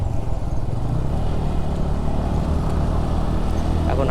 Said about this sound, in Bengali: এই যে বাইকের সেকেন্ড গিয়ার আছে, আমি শুধু ধরে আছি, বাইক একা একাই উঠে যাচ্ছে